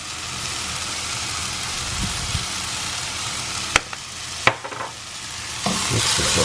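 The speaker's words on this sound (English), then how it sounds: "The mushrooms and onions are pretty much sauteed, soft enough for my liking, Abby's liking." Mushrooms, onions and elk meat sautéing in a pan give off a constant dense sizzle, with a few sharp utensil taps and clanks against the pan near the end.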